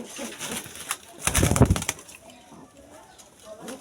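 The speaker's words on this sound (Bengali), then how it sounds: "কবুতরটা ধরাই যাচ্ছে না।" A pigeon coos and flaps its wings while being caught by hand, with a burst of loud fluttering and scuffling in the middle amid softer coos and handling noise, no speech.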